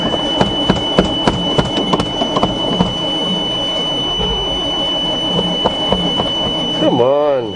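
A 427 dump truck engine being cranked on a cold start attempt gives a steady, loud, rough mechanical drone with rhythmic clattering pulses. A brief swelling whir comes near the end.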